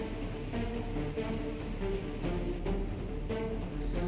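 Heavy rain pours steadily in Himachal and Jammu and Kashmir, a dense, constant hiss of drops hitting surfaces with a low rumble beneath, loud and unbroken throughout.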